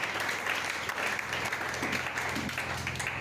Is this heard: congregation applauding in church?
yes